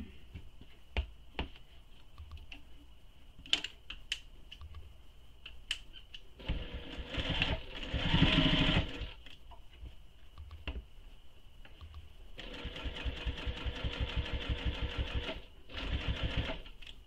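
A sewing machine top stitches along the long edge of a fabric clutch in several short runs of rapid needle clatter, separated by quiet pauses with light handling clicks.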